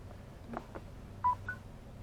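A Samsung Galaxy S6 placed on the wireless charging pad of a 2018 Chevrolet Silverado 1500 Crew Cab LTZ gives a short electronic chime of a few clean beeps as charging begins, close and clear in a quiet cabin.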